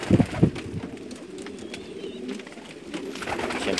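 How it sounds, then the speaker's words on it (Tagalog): Pigeons coo in short soft bursts near the start and again toward the end, over a quiet outdoor background with faint chirps, at a pigeon loft in Umluj, Saudi Arabia. "Lalaki ng kalapati dito."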